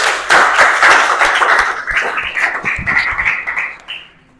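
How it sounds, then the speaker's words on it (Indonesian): Classmates in a classroom clap for a student group after its presentation, a short burst of close, loud clapping that tapers off and stops after about four seconds. "tepuk tangan buat kelompok 3"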